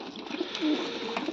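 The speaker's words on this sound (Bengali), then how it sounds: "টোটাল 12 পিস কবুতর আছে এখানে।" Pigeons coo in a low, throaty run of calls up close, continuous and unaccompanied by speech through the short stretch.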